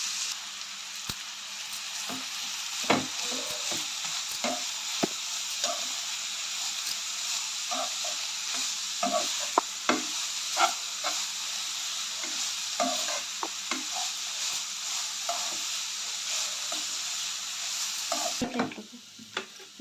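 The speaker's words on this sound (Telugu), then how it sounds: "ఇప్పుడు అదే ప్యాన్లో ఆల్రెడీ వేడిగానే ఉంటుంది కాబట్టి క్యారెట్ తురిమిని వేసుకుందాం." Grated carrot frying in a hot pan, with a continuous close sizzle and hiss under a steady run of scraping, tapping stirs from a utensil against the pan.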